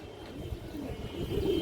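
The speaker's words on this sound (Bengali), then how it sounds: "মাসাল্লাহ অনেক সুন্দর কবুতর" A brief, low pigeon coo rumbles on a farm keeping colourful fancy, racer and high-flyer pigeons, heard fairly close and quiet without any talk.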